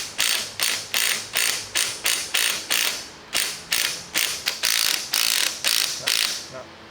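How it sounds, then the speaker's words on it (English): Pneumatic impact wrench working on the original WWII StuG III transmission in a workshop: a series of loud, close, rapid rattling bursts, about fifteen in seven seconds, each short and sharp with brief gaps between. "Rattle gun instead of spanners."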